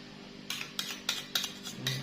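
A utensil scrapes and taps inside a bowl as flour, butter and oil are lightly mixed into quiche dough. The strokes come in a loose series of soft, close clicks after a brief silence.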